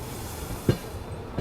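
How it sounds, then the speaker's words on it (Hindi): A train departs Kanpur Central railway station on the New Delhi–Bihar Sampark Kranti Express, giving a quiet, steady low rumble broken by two soft knocks. "खूबसूरत डिपार्चर हुआ अपना कानपुर सेंट्रल रेलवे स्टेशन से।"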